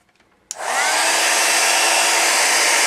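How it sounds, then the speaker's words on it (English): A heat setting tool switches on after a brief quiet moment and blows a loud, steady, close hiss of hot air for embossing powder on a resist embossing project, with no talking. "You're going to take your heat setting tool"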